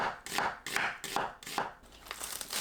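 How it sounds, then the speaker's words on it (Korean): A knife slices onion thinly on a cutting board in quick, even strokes, each a crisp cut ending in a soft tap, close up and with no talking. "양파를 얇게 채 썰어주세요"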